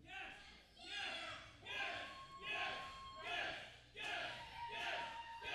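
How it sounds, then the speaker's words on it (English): A wrestling crowd at a holiday event chants "yes" in loud, rhythmic bursts, each chant swelling and fading roughly every second, with the noise of a large arena behind it. "Crowd chanting yes right now"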